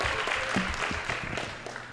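An audience at a school Black History Month celebration claps in a quick burst of applause that fades over about two seconds.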